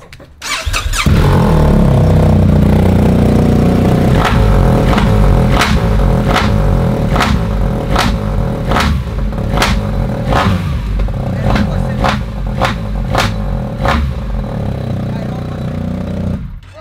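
A motorcycle engine catches and idles loudly up close, with a string of sharp, rhythmic pops and bursts of revving over its steady rumble.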